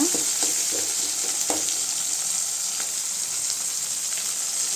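Tomatoes sauté in a pan with a little salt, producing a loud, continuous bright sizzle with a few low knocks from stirring near the start.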